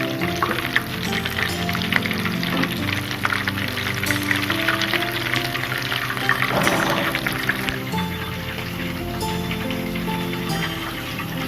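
Pizza cutlets frying in oil make a dense, steady crackle and bubbling throughout as they are lifted out of the pan, with occasional soft knocks of a utensil and no talking.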